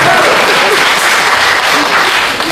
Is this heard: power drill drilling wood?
no